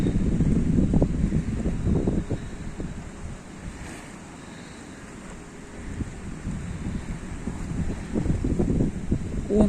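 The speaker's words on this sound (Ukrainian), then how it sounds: "пальми просто гнуться від вітру" Strong wind sweeping a beach in Hurghada, Egypt, bending palm trees, heard as continuous buffeting gusts against the microphone with surf-like rushing that dips midway and builds again.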